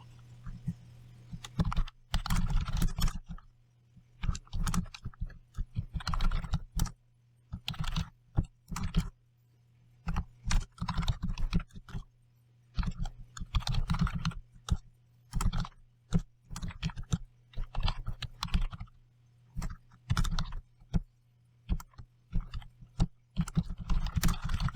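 Typing on a computer keyboard in bursts of rapid key clicks separated by short pauses, close and moderately quiet over a faint steady hum, with no talk.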